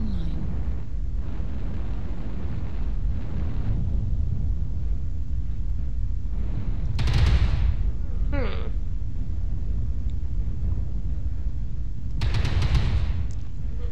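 Airstrike explosions from the MechWarrior Online video game, two deep booming blasts several seconds apart rolling over a constant loud rumble of battle noise, with talking heard at times.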